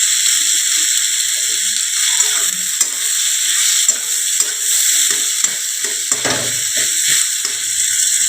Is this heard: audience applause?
no